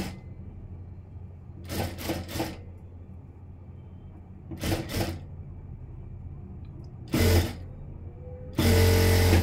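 Short bursts of a sewing machine stitching a blouse, several separate runs of a second or so each with quiet gaps of fabric handling between them, the last burst longer and louder.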